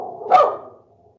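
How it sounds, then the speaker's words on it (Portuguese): A single short dog bark, close and fairly loud, rises out of quiet background and fades quickly. "O cachorro."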